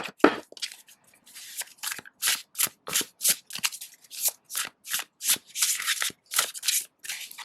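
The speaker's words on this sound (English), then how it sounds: "it's a bit too stiff to riffle shuffle" Stiff, textured cat-themed tarot cards shuffled by hand in a quiet room, a run of crisp, rapid papery slaps and rustles in short bursts with brief gaps, close and fairly loud.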